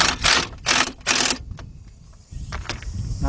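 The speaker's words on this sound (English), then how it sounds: "take my wobble extension with my deep 13mm socket, and I'm gonna go ahead and start tightening them up" A ratchet on a wobble extension with a deep 13mm socket tightens the hub bearing bolts on a 2006 Chevy Impala's left front wheel, giving three loud bursts of rapid clicking followed by quieter clicks and knocks, close up.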